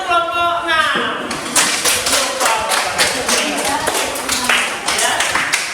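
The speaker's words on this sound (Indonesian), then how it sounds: "sebelumnya tepuk tangan untuk kelompok 6." Classroom applause for a student group at an elementary school, a dense burst of many small hands clapping that starts after a second and carries steadily to the end, close and fairly loud.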